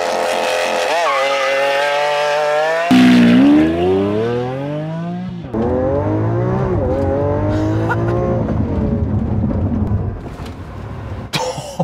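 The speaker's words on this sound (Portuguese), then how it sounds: "0 a 100 a 0 agora. De novo, Launch Control" A Lamborghini Aventador S on a test track roars through a launch-control run from standstill, its loud V12 climbing through several gear changes before hard braking brings it back down, the engine note falling as the car slows.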